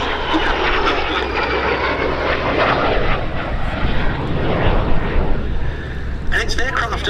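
De Havilland Vampire jet roars past at the Duxford summer air show, a loud continuous engine rush with a slight rise and fall, while a commentator talks over it.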